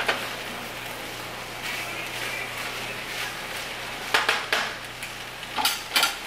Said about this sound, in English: we'll get the lid on this.